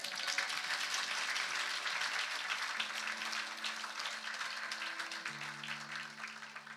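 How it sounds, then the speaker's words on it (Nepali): Applause at a church camp meeting, a dense wash of many hands clapping at a distance, with a sustained tone underneath that thickens toward the end. "र ल महिमाको ताली दिउँ नि त"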